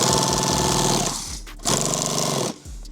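A sewing machine stitches a shooting mat in loud, rapid mechanical bursts, running hard, pausing briefly, then running again close up with no talk.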